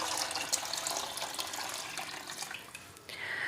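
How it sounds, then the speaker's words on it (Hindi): Water poured into a pot of kadhi for kadhi pakora, a steady splashing, trickling stream heard close up for several seconds, with a brief pause near the end before the pour resumes. "अब इसके अंदर हम पानी डालेंगे।"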